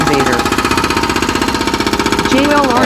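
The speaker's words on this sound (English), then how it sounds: "concrete with hydraulic hammer on an excavator" A hydraulic hammer on an excavator breaks concrete with a steady, rapid pounding rhythm that runs throughout, loud and close, with voices talking over it.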